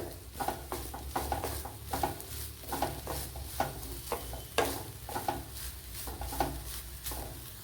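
Grated coconut frying in coconut oil in a pan, a steady soft sizzle broken by regular scraping stirs of a spoon against the metal, close by and without speech.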